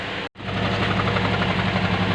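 A car engine with a misfire idles roughly near at hand, its steady uneven chugging and knocking broken only by a brief dropout near the start.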